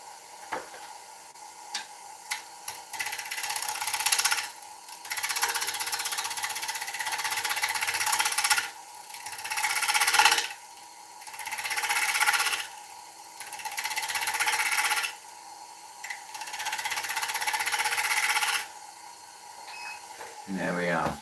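A wood lathe spins an ash fruit bowl blank while a gouge trues it, giving rough bursts of cutting chatter broken by short pauses. Someone talks in places between the cuts.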